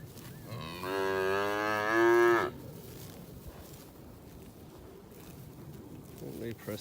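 An Angus steer in a weaning yard lets out one loud, drawn-out moo that swells then cuts off, followed by open outdoor ambience with faint rustling and a brief second call at the end.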